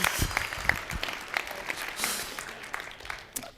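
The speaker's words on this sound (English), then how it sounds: "Clap for Jesus." A live audience claps at an event. The applause is dense and close, with scattered individual claps standing out, and it slowly thins over a few seconds while a voice briefly speaks.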